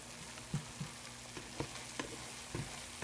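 A sandwich cooking undisturbed in a pan gives a soft, steady sizzle with a few light pops and crackles at irregular moments, quiet and close with no talking.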